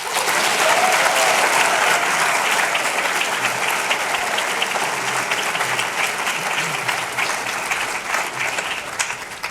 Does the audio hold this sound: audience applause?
yes